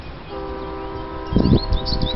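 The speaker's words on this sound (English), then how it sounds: "That's a train whistle." A freight train horn sounds at a distance as a steady harmonic tone near a lakeside park, with a louder rumbling thump partway through.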